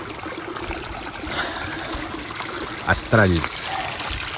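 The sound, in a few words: water flowing down a washed-out dirt track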